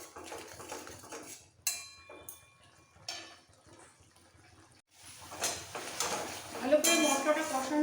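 Spatula stirring and clinking against a pan as cauliflower stalks are cooked down with poppy seed paste for a Bengali chochhori, with intermittent scraping and metallic taps, close and moderately loud, some sizzling and soft voice underneath.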